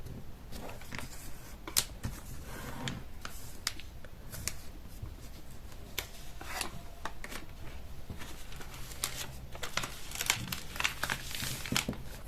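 Paper being folded by hand for a kawaii origami gift box, with soft crinkles, creases and rustles coming in irregular bursts, close and fairly quiet, with no talking.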